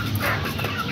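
Chickens clucking in a steady, close chorus as they peck at grain scattered inside their coop in the evening, with no talk over them.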